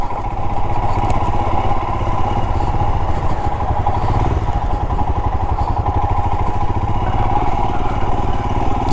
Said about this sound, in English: the exhaust grunt is little less compared to the previous version.